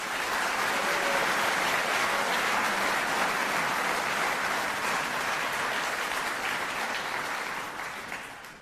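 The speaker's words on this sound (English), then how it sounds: "please a round of applause for them" A large audience at a university speech by Ben Shapiro breaks into loud, sustained applause, a dense wash of clapping that holds steady for several seconds before starting to taper off at the end.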